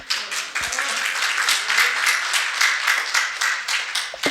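A lecture audience breaks into applause, dense steady clapping from many hands that carries on for about four seconds.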